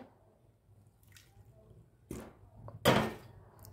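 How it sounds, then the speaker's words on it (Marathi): Water is added to a gram flour (besan) mixture for alu vadi batter, making a few soft, wet splashes and drips at close range in an otherwise quiet kitchen. "आणि ह्याच्यामध्ये आता हे पाणी टाकते"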